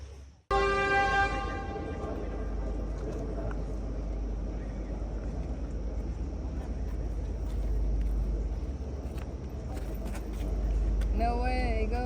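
A loud train horn blasts in a long steady tone as the train rumbles past nearby on the Kandy to Ella line in Sri Lanka, then a voice speaks near the end.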